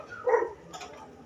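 A dog barks once at moderate distance in an outdoor setting near a rail line, a single short bark followed by faint background noise.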